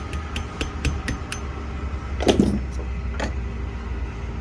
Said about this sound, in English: put the smaller one in and finish tapping this thing through